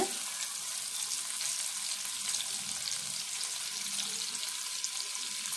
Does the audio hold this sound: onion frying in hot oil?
yes